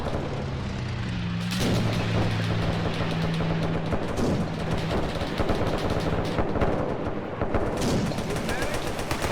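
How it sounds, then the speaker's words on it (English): A bomb dropped from a plane explodes in a World War-style multiplayer battle game, a broad boom rising around the middle amid steady loud gunfire and battle noise, with voices talking over it. "Oh, he dropped a bomb way early."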